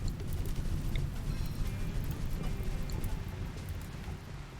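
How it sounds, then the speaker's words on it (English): Steady rain falls in the video game RimWorld, a continuous dense hiss of drops with no other sounds. "Oh, it's raining."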